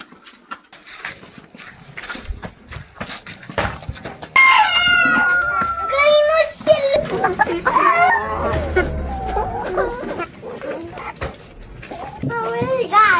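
Chickens cluck and a rooster crows close by, with children's voices chattering over the birds throughout.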